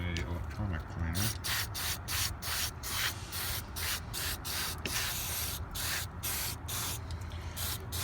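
Electronic cleaner sprays in quick repeated hissing bursts onto a Sargent mortise lock, a rapid series of short sprays with small gaps between them, recorded close by and fairly quiet.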